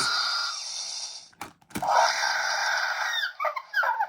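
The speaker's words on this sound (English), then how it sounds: "especially the little Dilophosaur hoot" Mattel Jurassic World Dilophosaurus toy sound effect: high squealing hoots and warbling calls with a couple of sharp clicks midway, electronic and tinny, no talking.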